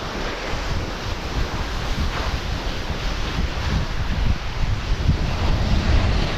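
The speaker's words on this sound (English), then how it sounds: "Think we found a slope steep enough to glissade." Glissading down a steep snow slope on a Sierra peak hike near Cottonwood Pass: a continuous loud rushing slide and wind roar, building slightly toward the end, with no talking.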